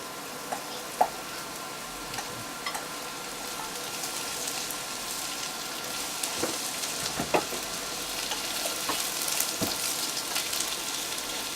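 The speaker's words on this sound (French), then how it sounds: "Donc maintenant on va mettre les oignons." Onions frying gently in olive oil in a pan, a quiet continuous sizzle with scattered light crackles and a few soft clicks of utensils.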